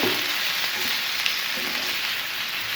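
Chicken sizzling and frying in a pan over high flame for butter garlic chicken, a steady dense crackle with faint stirring, close and continuous with no talking.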